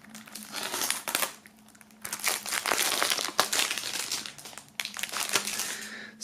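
A sticker strip being peeled off a plastic CD case, a close, loud run of crinkling, crackling bursts of plastic and paper with short pauses between pulls, no talk.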